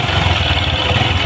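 A motorcycle engine that stalls in light rain runs at a steady idle, a loud close mechanical drone with a low throb and no voices.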